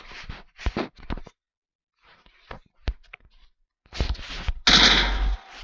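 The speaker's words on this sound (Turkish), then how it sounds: "silah sesi" Several sharp gunshot-like bangs scattered across the clip, separated by silences, ending in a louder burst with a hissy tail.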